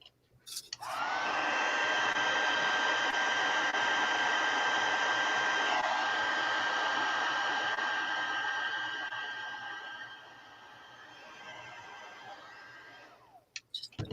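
A hair dryer runs steadily for about twelve seconds to dry craft glue and gesso, a loud continuous whooshing whine that drops slightly in strength before it clicks off.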